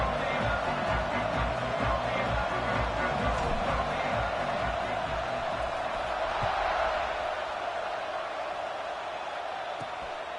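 College football stadium crowd at Michigan, cheering after a touchdown: a dense, loud, sustained roar filling the whole stretch, easing slightly toward the end.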